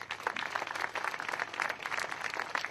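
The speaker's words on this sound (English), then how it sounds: "So to Bob Stanton, give him a round of applause." Faint, distant applause from a crowd at an MLK Memorial Foundation press conference, a soft, continuous patter of many hands that holds steady throughout.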